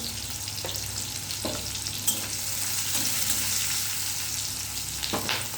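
Okra seasoned with salt and turmeric fries in a pan with a constant close sizzle, punctuated by a few soft stirring clicks.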